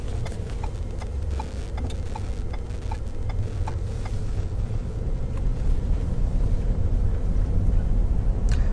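A car drives along a rural road, heard from inside the cabin as a steady low rumble with faint ticking clicks, the engine and road noise rising slightly toward the end.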